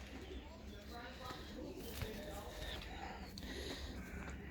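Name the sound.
Bokhara trumpeter pigeons, young birds cooing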